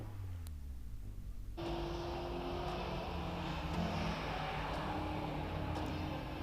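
An Alpine Series 3 sports car at the Prescott hillclimb starts off with a sudden rise in engine and exhaust noise, which then holds at a strong, steady drone through the rest.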